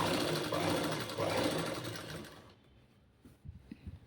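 A sewing machine runs fast and close while stitching a boat neck blouse, a dense whirring buzz that stops after about two and a half seconds, followed by a few soft handling knocks.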